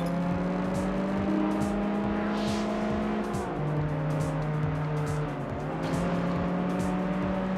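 An Aston Martin in the Test Drive Unlimited racing game drives with a steady engine drone that rises and drops through gear shifts, with faint tyre noise and no voices.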